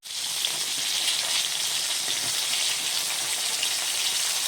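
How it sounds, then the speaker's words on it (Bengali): Fish frying in oil, a dense, steady hiss of sizzling that stays loud and constant throughout, with no voices. "এই মাছটাও এরকম সুন্দর করে ভেজে নিচ্ছে"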